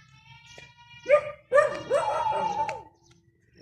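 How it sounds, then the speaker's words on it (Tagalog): A dog barks several times at moderate distance in an outdoor residential area, sharp yapping barks followed by a longer whining yelp, with quiet pauses between. "Hala, may aso, uy. Baka habulin tayo ng aso."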